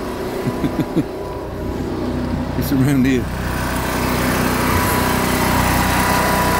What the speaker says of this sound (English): leave me with this noisy generator